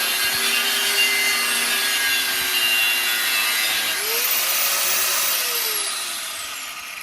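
Metal being cut with a power tool while building a forge, a loud continuous grinding whine with a rising and falling pitch sweep as the cut progresses, easing slightly toward the end.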